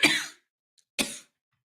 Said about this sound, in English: I'm sorry for the cough.